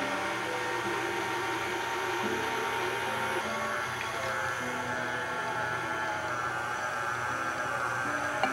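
An electric mixer beats flour into a butter mixture, forming a stiff dough for walnut-filled Christmas cookies; a steady, moderately quiet motor hum with a faint whir runs throughout, with no talking.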